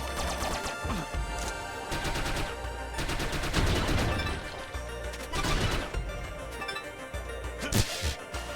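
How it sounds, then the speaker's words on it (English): Dense retro game combat from The Mummy Demastered: a grenade blast amid rapid bursts of gunfire and crashing explosions, loud and continuous with repeated sharp peaks. "I'm throwing a grenade here"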